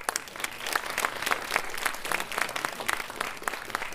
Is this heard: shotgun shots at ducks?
no